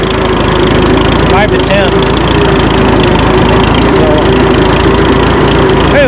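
An Oliver 770 tractor engine idles in a loud, steady mechanical drone close by, with someone talking over the running engine throughout.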